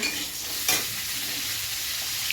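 Bhola fish jhal, a spicy fish curry, cooking in a pan, with a steady sizzle and a brief scrape of stirring; close and fairly loud, with no talk.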